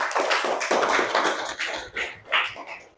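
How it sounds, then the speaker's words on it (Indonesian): A classroom of primary school pupils claps for a classmate, a fairly close burst of hand claps in uneven rhythm that thins out toward the end. "Oke, Upi, tepuk tangan buat Upi."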